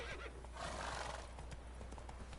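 Roach, Geralt's horse in the video game The Witcher 3, giving a loud, close whinny over a low steady hum, with light hoof clip-clops mixed in.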